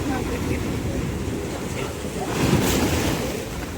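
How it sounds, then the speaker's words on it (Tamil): Heavy, aggressive sea waves crash on the shore at Arichal Munai near Rameswaram, a continuous rolling surge with wind buffeting the microphone and a louder swell midway. "ஸோ ஆக்ரோஷமான கடலை பார்த்தீங்களா"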